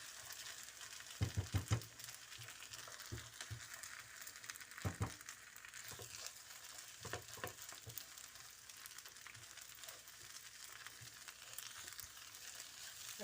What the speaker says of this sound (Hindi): और ये जो एग था सारे डाल देती हूँ। इसी में मैंने इसको कुक कर लेना।